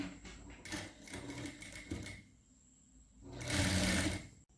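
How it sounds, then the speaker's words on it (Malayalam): A sewing machine stitches a kurti piece onto canvas in several close, loud bursts of rapid whirring, separated by short pauses. "ഇനി ഇവിടെ നിൽക്കുന്ന ഈ പീസ് നമുക്ക് ഈ ക്യാൻവാസിലോട്ട് വെച്ച് അടിച്ചെടുക്കാം."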